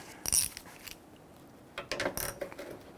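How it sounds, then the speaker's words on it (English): A hand ratchet clicks in short bursts as it gently snugs down a bolt on a Nissan Frontier tailgate handle, two quiet clusters of close mechanical ticking with near silence between them. "we're gently going to snug that down just by hand using our ratchet"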